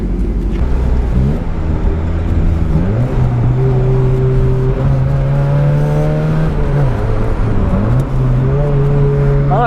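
A small project car's engine runs loud and close on its first drive, revving up and down in repeated rising and falling sweeps over a steady drone.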